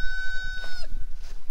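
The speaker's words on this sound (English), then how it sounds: "for paddock number four, we have the chicken paddock," Chickens cluck and call close by in a farm chicken paddock shared with peacocks, with a short, busy burst of fowl sounds over steady outdoor noise.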